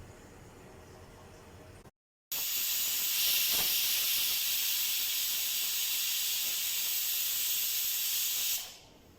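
A pressure cooker cooking sambar rice lets out a loud, steady jet of hissing steam. It starts abruptly after a brief silence, holds for several seconds, then cuts off.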